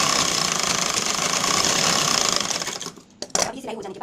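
A close, loud sewing machine hums in a continuous rapid stitching run as a kaaj patti strip is sewn onto a blouse, then slows and stops near the end, followed by a few handling knocks.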